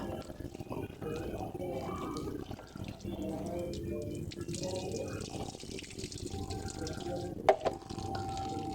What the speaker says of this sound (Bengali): এবার ভালো করে আলুগুলোকে ধুয়ে নেব জল পাল্টে পাল্টে